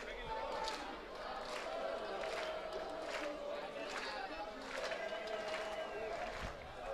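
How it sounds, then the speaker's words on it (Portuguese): Porto Velho supporters sing in the stands during a Campeonato Rondoniense football match against Ji-Paraná, a steady crowd chant under a commentator's continuous talk. "A torcida vai cantando bonito."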